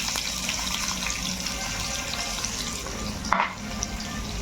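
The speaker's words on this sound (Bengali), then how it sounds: "পেঁয়াজ দিয়ে দিচ্ছি।" Chopped onions go into hot oil for a pressure-cooker mutton curry, giving a steady close sizzle and crackle throughout, with a brief clatter of stirring near the end.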